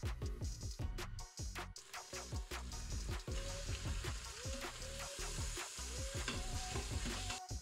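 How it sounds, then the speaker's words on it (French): Thin-sliced beef with two minced onions frying in a spoonful of oil and fish sauce, for beef and caramel stir-fried noodles: a dense, continuous sizzle with frequent utensil scrapes and stirring clatter close by, no talking. "Pendant que notre bœuf est en train de revenir donc dans l'huile et la sauce de poisson"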